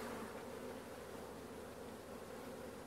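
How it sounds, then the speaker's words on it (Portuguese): Honeybees shaken off a hive frame during a colony inspection after transfer, a dense steady buzzing swarm sound that fills the whole stretch without any voices. "Vou chacoalhar as abelhas aqui."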